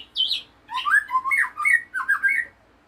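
A white-rumped shama in breeding condition sings close by in a varied run of clear whistles and squawky notes, rising and falling in quick phrases.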